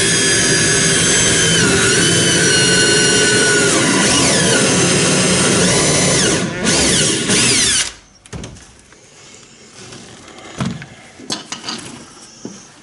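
A power drill drives screws up through the hog, or keelson, into the skeg of an Acorn dinghy under construction, whirring loud and close for about eight seconds before fading to quieter handling noises.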